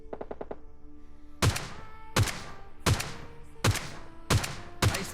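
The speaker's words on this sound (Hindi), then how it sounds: "जैसे ही आता हूँ सामने से कुछ गन साउंड्स आ रहे थे" Gunfire in the PUBG Lite battle-royale game: a quick patter of light clicks, then six loud, heavy shots at a steady pace of about one every 0.7 seconds, each with a booming reverberant tail.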